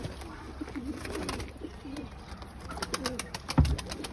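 Pigeons in a loft coo softly and repeatedly, their low rolling calls close and clear over faint background noise, ending with a brief thump.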